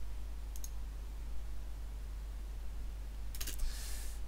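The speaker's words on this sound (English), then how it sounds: "that's done by typing enabled is, and I have to type it correctly of course" Computer keyboard clatters briefly while code is typed, two short clusters of quick key clicks, faint and close, over a low steady electrical hum.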